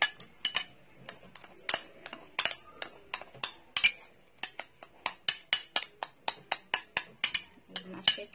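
A spoon clinks and scrapes against a bowl while mashing a face pack mixture, a long run of sharp, evenly spaced taps close by, with no talking.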